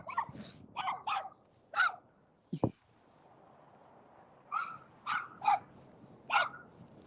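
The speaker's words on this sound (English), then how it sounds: "Explain to me what you think when them dogs real aggressive like that." Aggressive dogs bark in loud, sharp bursts, clustered in pairs and threes with a short growl-like low sound between, fairly close and without talk over them.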